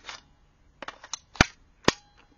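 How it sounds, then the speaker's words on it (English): Rifle magazine inserted into an empty rifle, clicking into place: a few light scrapes of metal sliding, then two sharp, close clicks about half a second apart, loud against a quiet background. "with nothing but a simple click, you can get the magazine"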